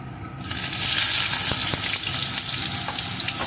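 Chopped onion dropped into hot oil bursts into a loud, dense, steady frying hiss that continues unbroken, with a few faint utensil taps beneath it and no speech.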